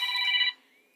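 A telephone rings during a lecture, a single bright electronic ring tone for about half a second, then a thin fading tail, loud and close with no talk over it.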